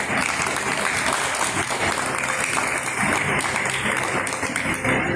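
Audience at a young journalists' competition applauds loudly and continuously, a thick, even wash of clapping with no break.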